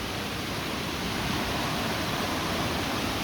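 Waterfalls at Janet's Foss and Gordale Scar roar in a steady, dense wash of falling water, loud and close, with no break and no voices over it.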